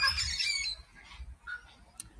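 Birds squawk in an aviary at a wildlife park, with a burst of harsh calls at the start, then scattered fainter squawks and a short sharp cry near the end over low background rumble.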